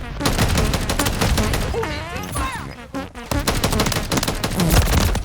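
Rapid automatic gunfire in the video game Modern Warfare III, dense bursts of shots with brief pauses, loud and close, with a player's voice talking over parts of it.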